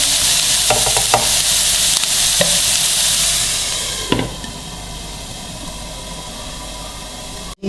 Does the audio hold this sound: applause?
no